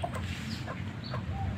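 Ornamental Cochin chickens cluck while being fed in a coop, several short, close clucks and calls scattered over a low background hum.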